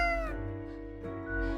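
A cat meows in the video game Death and Taxes, giving two clear, close, harmonic meows, the first falling in pitch and the second rising after a short pause.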